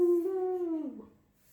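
A single long, steady dog howl that holds its pitch, then slides downward and fades out, close and clear with no talk over it.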